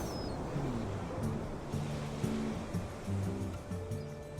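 Big ocean waves breaking at Nazaré on the Portuguese coast, a steady broadband roar of surf that swells and eases across the whole stretch, with a low rumble underneath and no talk.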